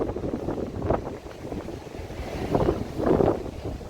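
Stormy sea waves washing onto the shore at Arcadia beach in Odesa, a steady windy roar with surges swelling and breaking, heard from nearby with wind buffeting the microphone.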